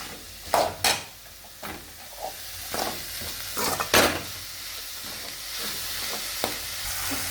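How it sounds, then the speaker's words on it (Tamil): Capsicum and egg stir-fry in a pan for a South Indian poriyal: a continuous sizzle broken by several sharp spatula scrapes and knocks against the pan, close and fairly loud, with no voices. "நல்லா பொண்ணுலாம் வரளவுக்கு நல்லா வதக்கி எடுக்கணும்"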